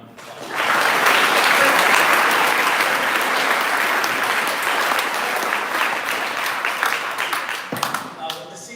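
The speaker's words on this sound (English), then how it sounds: "So if you could give them a round of applause." Round of applause from an audience at a school awards night honoring senior golfers: loud, dense, sustained clapping that swells quickly and fades slightly near the end, with a voice briefly audible afterward.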